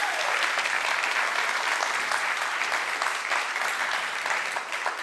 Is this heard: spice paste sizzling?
no